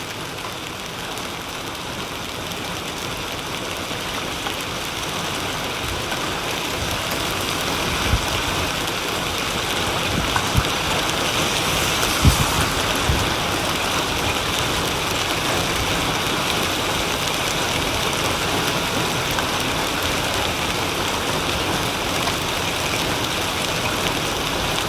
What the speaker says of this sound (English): If you guys are enjoying the hail show, make sure to like the stream for me.